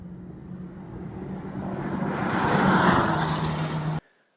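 A 2015 Honda Civic Type R on a racetrack builds to a loud, rising engine roar as it approaches, then the sound cuts off abruptly.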